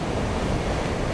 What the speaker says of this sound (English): what also makes it impressive is the roar of the river